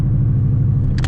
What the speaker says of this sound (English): I'm gonna downshift it to 2nd.